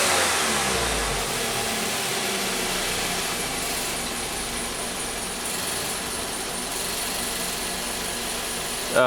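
A 2014 VW Jetta with a GDI turbo engine and an intermittent misfire runs at a steady held rev, a loud continuous engine drone with a broadband mechanical roar throughout and no talk.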